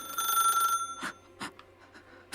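A telephone bell rings in the horror video game Dark Atlas: Infernum, a loud sustained ring lasting under a second, followed by scattered quieter clicks and footsteps in a hushed room.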